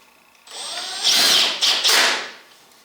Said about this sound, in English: then I'll put my 2 screws on each one here on the back side